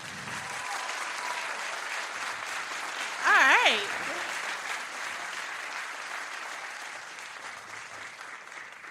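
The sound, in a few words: audience clapping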